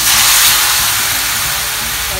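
Banana slices drop into hot oil and sizzle, a loud, steady frying hiss that fills the clip from the start and fades only slightly.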